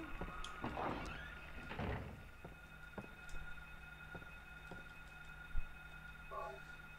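A door in the Silent Hill video game opening with a few soft thunks and scrapes, faint and sparse over a low droning ambient hum.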